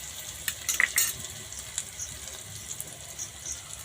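Tomato, green chilli and spices fry in oil with a soft, steady sizzle and a few sharp crackles near the start. The sound is quiet and close, with no voices.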